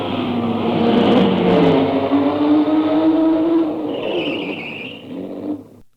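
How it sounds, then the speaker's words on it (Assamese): A car engine rumbles loudly and revs with a steadily rising pitch, then eases off and fades out near the end, with no voices over it. "হঠাৎ গাড়ীৰ ঘৰ ঘৰ আৱাজত কেতেকীজনীৰ মাতটো ডুব গ'ল"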